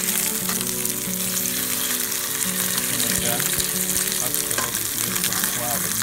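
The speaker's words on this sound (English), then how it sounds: "I'm actually going to put it on the heat in a cold pan and bring it up to temperature so that the skin gets really crispy." Trevally fillet, a semi-oily fish, frying skin-side down in a pan heated from cold to crisp the skin, giving a steady close sizzle and crackle throughout with a few brief knocks of utensils.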